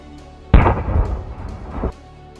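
A TNT explosive device detonating: one sudden loud blast that rolls on as a dense, rumbling roar for over a second, then cuts off, with faint background noise before and after.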